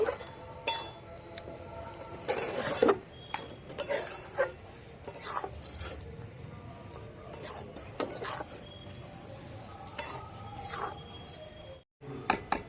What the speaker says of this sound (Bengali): মিক্সার দিয়ে ভালো করে নেড়ে নেব